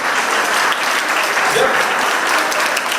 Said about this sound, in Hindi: स्कूल के जितने भी परफॉर्मेंस हुए, एक्स्ट्रा ऑर्डिनरी अच्छे हुए, उनके लिए एक बार वापस तालियां बजाएं